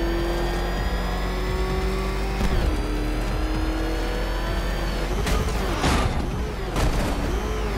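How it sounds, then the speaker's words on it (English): Batmobile engine in the Batman Arkham Knight video game revving loudly and continuously, with rising and falling pitch sweeps as it accelerates and shifts, plus a few sharp bursts near the end. "There's more to this test than just going vroom, vroom, really fast."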